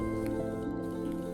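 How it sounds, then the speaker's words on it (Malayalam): Half a lemon is squeezed by hand into a bowl, giving soft wet squishing and dripping sounds, close and quiet, with a steady background hum and no speech. "ആദ്യം ഒരു ബൗളിൽ ഒരു പകുതി ചെറുനാരങ്ങയുടെ നീരെടുക്കുക"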